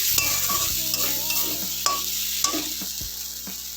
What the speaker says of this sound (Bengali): এবার একটু আমি গরম জল এর মধ্যে দেবো।